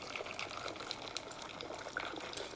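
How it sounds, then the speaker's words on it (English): A gin cocktail made with Bombay Sapphire and lemon is poured into a rocks glass over an ice ball, giving a quiet, steady trickle and splash with faint clinks, close and without talk. "I've got my classic ice ball in my my rocks glass, and we will pour."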